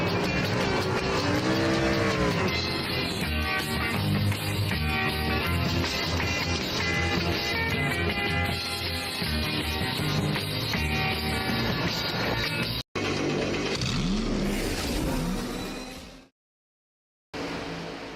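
Race cars roaring in a NOMA Cup eSports racing game at Kansas Speedway during the Flatwoods 225, with steady loud engine drone and shifting pitch, a brief dropout near the end and a short silence before it resumes.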